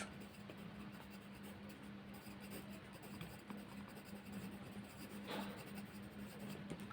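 A pen or pencil writes a label next to a vernier scale diagram on paper, giving a soft, continuous scratching close by over a steady low hum.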